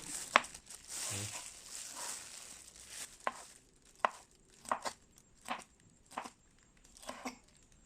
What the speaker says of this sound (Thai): ขั้นตอนการหั่นนะเราก็หั่นแบบนี้ไปเลย